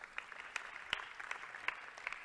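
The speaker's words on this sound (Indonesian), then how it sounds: "Ayo tepuk tangan Abraham Bapak kita semua." Sparse, faint claps from a small audience at a church seminar, a few scattered hand claps at an uneven rhythm over a quiet room.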